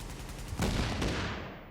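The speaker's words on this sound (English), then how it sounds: "guess that's what happens when you use explosive rounds in the shooting range" Explosive-ammo gunfire in The Division's shooting range, heard as a single heavy burst of shots and blasts that swells loudly, then trails off into a fading rumble.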